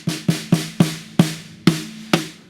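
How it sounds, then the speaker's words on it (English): Seven snare drum hits with the snare wires engaged sound alone at an irregular pace, each a crisp crack followed by a buzzing rattle that fades quickly. "when you engage the snare wires, you get that kind of characteristic rattle."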